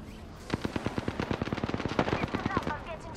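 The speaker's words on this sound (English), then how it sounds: "Enough, I'm getting shot at." Rapid automatic gunfire from the Apex Legends video game, a fast, steady burst of sharp shots lasting a few seconds at moderate level with a faint voice underneath.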